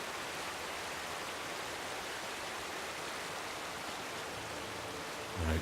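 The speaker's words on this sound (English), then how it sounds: "I can hear the sound of rain near." Rain in the video game Skyrim falls as a continuous, soft, even hiss, faint and uninterrupted throughout with no other sounds.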